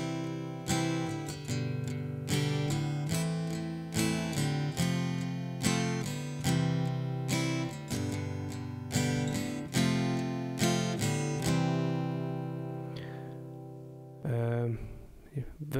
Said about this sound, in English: So the intro sounds like this.